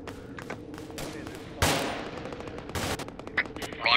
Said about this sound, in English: we're trying to give you covering fire, but we're getting red on ammo